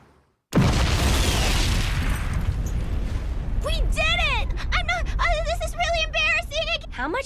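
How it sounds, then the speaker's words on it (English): Mark III grenade explosions tear through the scene as one loud, sustained blast roar that rumbles on for seconds, while high chirping bird-like cries and shouts rise over the dying rumble. "The impact would have ripped to shreds anyone within 3 meters of the blast."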